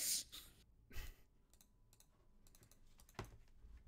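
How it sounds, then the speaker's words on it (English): Typing on a computer keyboard during a Magic: The Gathering stream chat, with scattered quiet key clicks and a few louder taps in irregular bursts, close and faint, no talking. "You were typing, right? You wanted to be the first."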